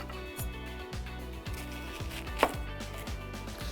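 Onions are sliced julienne with a knife on a cutting board, a quick, regular run of close knife strokes tapping the board, one sharper knock partway through, with no voices.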